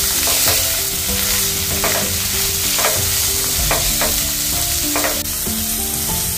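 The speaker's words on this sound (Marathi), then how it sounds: "आता ह्याच्यामध्ये 1 मोठा कांदा बारीक चिरलेला आहे तो घालते आणि छानपैकी परतून घेते।" Finely chopped onion sautés in a pan with a continuous loud sizzle, broken by repeated scraping stirs, over a faint tonal backdrop and with no speech.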